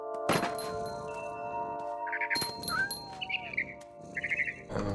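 A barn swallow chirping in the video game What Remains of Edith Finch, a few quick bursts of high twittering calls mixed with thuds and movement noises over a low ambient game drone.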